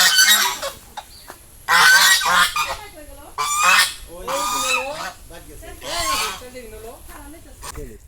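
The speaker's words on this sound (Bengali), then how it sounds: "কি সুন্দর রাজহাঁস" A goose gives repeated loud, nasal honks up close, in bursts separated by short quiet gaps.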